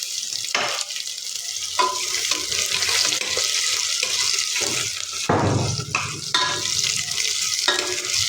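Onions, green chillies, fresh ginger and garlic fry in a pan, sizzling steadily while a spoon stirs and scrapes through them in repeated strokes, with a louder burst of sizzle partway through.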